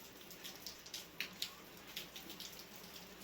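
Steady rain falls outside a hillside home, a faint continuous patter with scattered sharper drips, distant and low in level, with no speech.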